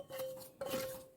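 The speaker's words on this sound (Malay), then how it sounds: "Dan gaul serata." Brownie batter with flour and sugar is stirred in a bowl, giving a quiet, brief scrape and clink of utensil against the dish twice in quick succession, with no talking.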